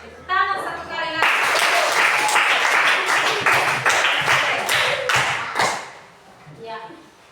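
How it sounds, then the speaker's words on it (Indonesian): A classroom of children clapping their hands together, a dense burst of rapid, close claps lasting several seconds that then fades, with a teacher's voice briefly before and after. "Mari kita tepuk tangan satu kali lagi."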